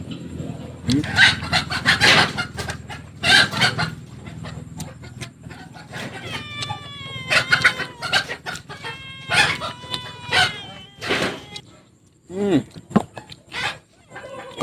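Chickens cluck repeatedly close by in an outdoor rural setting, with a rooster's crow and scattered bird calls mixed in, and occasional voices in the background.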